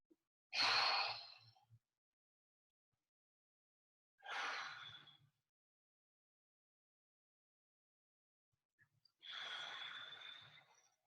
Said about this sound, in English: focus on taking 5 deep breaths